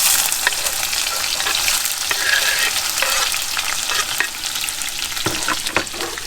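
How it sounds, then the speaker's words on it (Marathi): Chopped onion sizzles and crackles in hot oil in a pan while a spoon stirs and scrapes it, a close, continuous frying hiss with intermittent clinks and scrapes, cooked at a campsite in the Nubra Valley of Ladakh. "आता पहिला कांदा टाकते परतायला."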